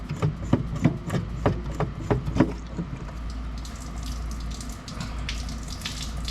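Old fuel drains from a disconnected fuel line on a rare Porsche, a close, continuous trickling flow following a series of sharp rhythmic taps near the start, with no talking.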